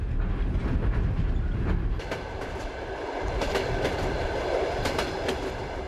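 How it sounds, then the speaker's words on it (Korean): A Trans-Siberian passenger train rumbles along its rails, loud and continuous, with rhythmic clickety-clack of wheels over joints and a heavy low roar that eases slightly partway through. "여섯 번째 도시를 향해 열차는 20시간을 넘게 달리고 있다."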